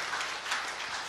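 A church congregation applauds in a brief burst, a dense, even patter of many hands clapping together at moderate loudness.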